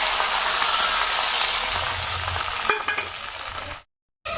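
An egg pitha fries in oil in a wok, a loud, close, steady sizzle with a few scraping stirs toward the end before the sound drops away abruptly.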